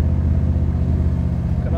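A 1972 Pontiac LeMans cruising and slowing toward a stop sign, heard from inside as a steady low engine and road rumble that stays even and close throughout, with a person talking over it.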